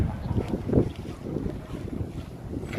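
Wind blowing across an open cemetery in the afternoon, a continuous rough buffeting rush with gusty swells against the microphone, fairly quiet and without speech.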